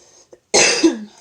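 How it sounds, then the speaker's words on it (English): A woman coughing indoors, a faint breath and tiny catch, then one loud close harsh cough burst that trails off into a throaty rasp. "I'm coughing and coughing and coughing repetitively"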